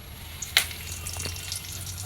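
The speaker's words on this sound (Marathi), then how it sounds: "त्यात टाकायचं आहे कढीपत्ता," Curry leaves dropped into hot oil in a kadhai, a sharp crackling burst followed by a steady, close sizzle that keeps hissing with small pops.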